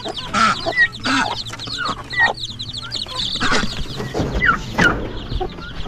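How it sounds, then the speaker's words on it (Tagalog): A hen with her brood of chicks clucks close by on a small farm, soft repeated clucks mixed with high chirps and rustling, with no talking over them. "Yan o, dami sisiw niya no."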